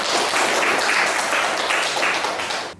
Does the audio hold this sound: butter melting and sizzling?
no